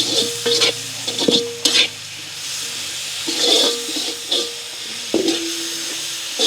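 Salt goes into food being stir-fried in a pan, with a steady sizzle and hiss under repeated scraping stirs and metallic clinks, close and fairly loud, no talking.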